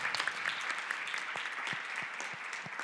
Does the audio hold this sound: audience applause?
yes